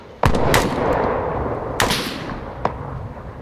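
Heavy rifle shots ring out in the military shooter Arma 3, several loud reports spaced a second or so apart, each trailing a long rolling echo across open terrain.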